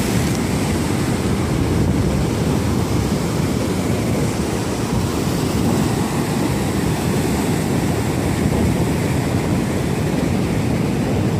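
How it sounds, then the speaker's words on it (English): Continuous roaring surf of ocean waves crashing and churning against a jetty, loud and steady throughout, with wind rumble mixed in. "Better pay attention to these waves"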